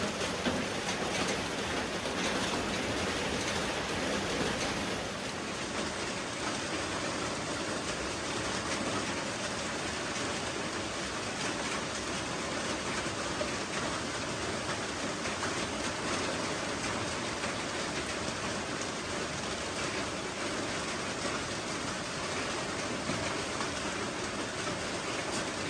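Steady heavy rain falling through the night at a rural pig pen, a dense continuous hiss and patter that stays loud and even from start to finish, with no voices.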